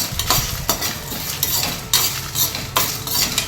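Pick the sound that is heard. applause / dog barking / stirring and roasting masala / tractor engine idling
stirring and roasting masala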